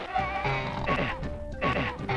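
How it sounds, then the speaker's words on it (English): Goats bleating in a video game, several wavering, nasal calls in succession with brief gaps between them, close and clear, with no talk over them. "Look at these happy little goats."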